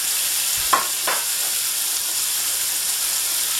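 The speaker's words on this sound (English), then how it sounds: "Now we need to add our vegetables to that pan." Vegetables go into a hot pan used for Cajun stew and sizzle with a steady, loud frying hiss, broken early by a couple of brief clinks and stirring knocks.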